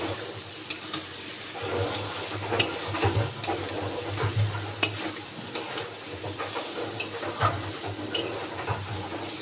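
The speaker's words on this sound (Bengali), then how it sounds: "ক্যাপসিকামটা অর্ধেক ভাজা এবং অর্ধেক কাঁচা থাকতেই মশলাটা দিয়ে দেবো।" Capsicum half-fried in a pan with other vegetables, sizzling steadily under repeated scraping and stirring strokes at close range, without talking.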